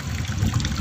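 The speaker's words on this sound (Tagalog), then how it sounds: "Ayan guys, naririnig nyo, umuulan." Rain falls outdoors at night in a brief, steady wash of splashing and trickling water, fairly soft and without voices.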